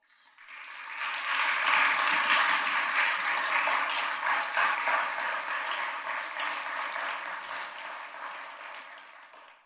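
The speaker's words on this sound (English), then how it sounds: "let's give them a big round of applause." An audience of commissioners and guests at a county state-of-the-county address claps in a sustained round of applause, swelling quickly, holding loud and dense for several seconds, then fading near the end.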